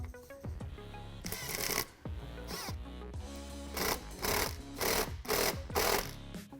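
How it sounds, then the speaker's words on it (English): Hose clamps on a K&N 77 Series air intake tube are tightened during a 2012-2018 Jeep Wrangler JK install, heard as a series of loud, buzzing, ratcheting bursts separated by short pauses. "we can now tighten down our hose clamps"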